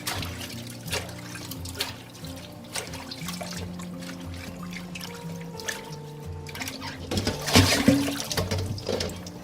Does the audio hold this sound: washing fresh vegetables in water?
yes